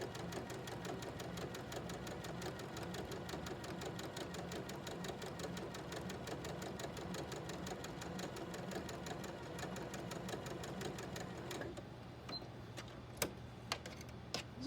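A sewing machine runs steadily, stitching large quilt blocks of colored squares with a dense, even mechanical rattle for most of the span, then slows and stops near the end, leaving a few isolated clicks.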